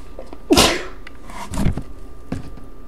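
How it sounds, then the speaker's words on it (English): A single sharp sneeze bursts out near the mic, followed by quieter breaths or sniffs, with no talk. "Excuse me, I'm going to sneeze."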